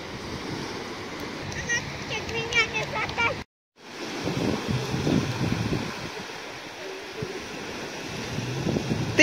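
Sea waves wash onto the beach at Jurmala, Latvia, under constant wind buffeting the microphone, a broad rushing roar broken by a brief dropout, with faint voices now and then.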